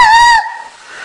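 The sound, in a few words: child imitating an elephant trumpeting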